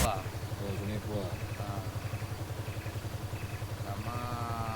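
A motorcycle idles with a steady, pulsing putter close by in a village setting, running under continuous conversation throughout.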